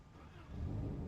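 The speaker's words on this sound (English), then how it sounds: "I've had people revving up cars and up and down the road all day long" Low engine rumble from cars on the road outside, swelling louder in the second half like a car revving nearby, steady and droning with no talking.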